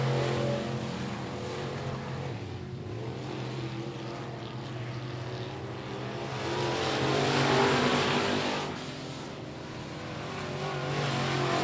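Race cars lap at I-37 Speedway in a regular race program, engines roaring past as a steady drone that swells and fades with each pass and sounds somewhat distant.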